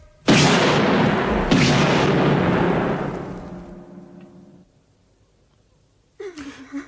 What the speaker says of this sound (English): Look out! He's throwing grenades!